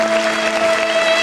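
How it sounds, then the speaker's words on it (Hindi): Steady applause and clapping from an audience, a dense continuous patter with a faint sustained tone running underneath, loud throughout the short stretch. "अब बजाते रहो बहन ताली।"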